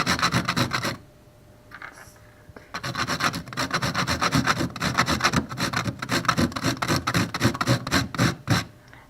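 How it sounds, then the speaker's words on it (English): Turmeric rasped on a hand grater, a steady scraping rhythm of rapid strokes close up, loud and continuous with a brief pause near the start, no talking. "So I'll just grate it like this."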